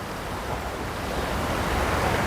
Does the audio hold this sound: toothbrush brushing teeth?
no